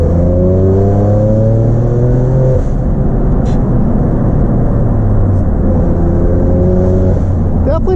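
A BMW M2 Competition engine revs from inside the cabin, its pitch rising then dropping and climbing again in repeated sweeps, loud and continuous with road and cabin rumble underneath.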